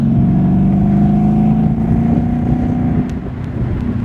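The exhaust of a 2012 Ford Mustang Boss 302 rumbles steadily as it revs at a fairly loud level, its tone holding for a few seconds before easing off briefly near the end. No one speaks.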